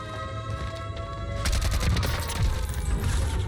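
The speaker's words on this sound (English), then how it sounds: "I just heard him take a shot." Gunfire from a Call of Duty Warzone match on Rebirth Island, a faint patter of shots that gives way to a loud, dense burst of rapid fire and booming impacts in the second half.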